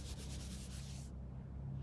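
Quick, steady sanding strokes rubbing across a guide-coated panel up close, stopping about halfway through, leaving a low hum.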